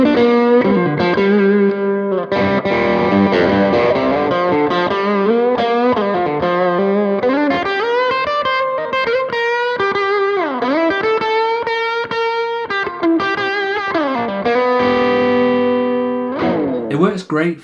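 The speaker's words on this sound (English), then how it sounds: "use the tube screamer if I just want like a mild overdrive" An electric guitar plays a run of notes and chords through a Tube Screamer pedal's mildly overdriven, gritty tone, sustained and fairly loud.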